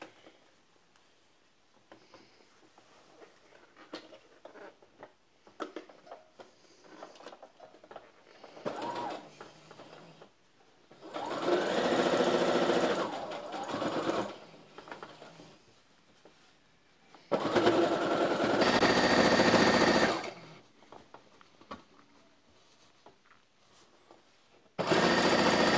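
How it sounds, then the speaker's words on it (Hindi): An electric sewing machine stitches a waistband onto a salwar, with two long loud runs of fast mechanical whirring and clatter separated by quieter handling noises and a final short burst. "सिलाई शुरू करते हैं।"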